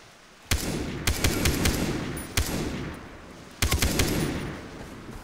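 Gunfire in the Far Cry 3 video game, sharp close bursts of rapid shots in three clusters, each followed by a noisy rumbling tail that decays before the next volley.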